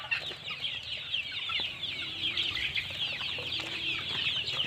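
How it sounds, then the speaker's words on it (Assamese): Flock of about 150 local chickens on a small poultry farm, many overlapping soft clucks and chirps forming a steady, busy murmur at moderate distance, with occasional louder calls and no talk. "এই 150 মুৰ্গী।"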